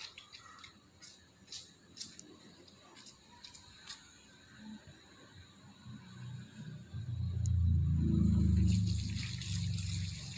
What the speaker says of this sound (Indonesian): Kita mencuci tangan 6 langkah dengan sabun,